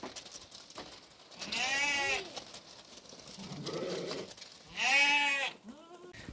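Goats in a small herd of eleven does and a buck bleat in loud, wavering calls, two long cries and a lower one in between, close by over a quiet outdoor background.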